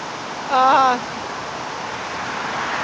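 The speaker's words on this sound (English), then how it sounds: "Here's the Ottawaquechee River in North Heartland, Vermont." The Ottawaquechee River in North Hartland, Vermont, flows as a steady broadband rush heard from a bridge on Route 5, a constant wash of water noise with a brief voice-like tonal sound near the start.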